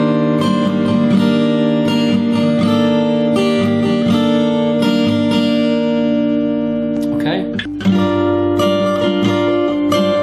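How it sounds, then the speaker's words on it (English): Guitar plays a sequence of C-shape chords, strummed notes ringing with sustained harmonics for several seconds, close and steady, with a brief pause and fresh attack near the end; no talking. "So all in all, the C shape should sound like this."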